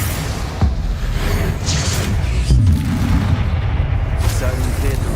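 A Bombarda spell explodes in Hogwarts Legacy with deep, booming blasts and heavy rumbles amid combat noise, while voices shout over the action.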